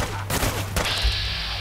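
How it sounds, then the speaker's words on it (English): Rapid gunfire crackles in a Fallout Nuka World firefight at Starport Nuka, dense bursts of loud shots layered over a constant low game-ambience hum, with no talk. "We are being shot at."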